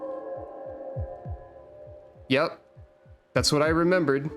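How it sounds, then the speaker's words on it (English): A slow, muffled heartbeat thuds steadily beneath a low ominous drone in the creepy ambience of the planet Globin in Final Fantasy XIV, with people talking briefly over it. "It's a heartbeat with ominous noise."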